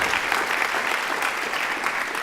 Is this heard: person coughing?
no